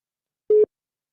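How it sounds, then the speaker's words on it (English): A single short electronic telephone tone on an outgoing call sounds once, clean and steady, surrounded by silence. "All right, it's just ringing right now,"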